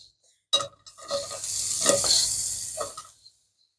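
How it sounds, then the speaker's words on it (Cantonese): Onions stir-frying in a hot wok for a Hong Kong-style tomato pork chop rice, a loud sizzle with stirring scrapes that starts abruptly, holds steady for a few seconds, then cuts off, with no talk over it. "先爆一爆啲洋葱先。"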